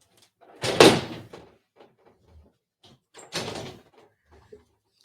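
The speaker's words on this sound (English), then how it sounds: "I'm going to close the door." An indoor door pushed shut with a loud, close thud, followed by a second softer closing bump and small rattles in an otherwise quiet room.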